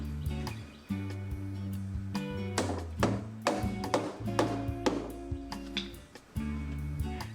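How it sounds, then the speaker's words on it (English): Rubber mallet strikes a 3-inch support into the bottom of a double bar's leg, giving a string of sharp, close taps at uneven intervals over a steady low hum. "Begin by placing the 3-inch support into the bottom of the leg and tap into place with a rubber mallet."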